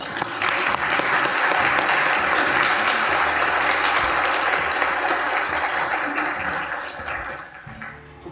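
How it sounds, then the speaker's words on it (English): Sustained applause from a crowd at a Hispanic Heritage Month luncheon fills the room, steady and loud before gradually thinning out near the end. "Please give a warm round of applause and welcome Vanessa Cardenas."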